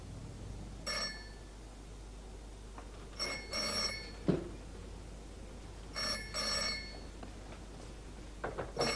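An old-style telephone bell rings in repeated bursts in a quiet room, the rings fairly loud and alone, with a faint knock partway through.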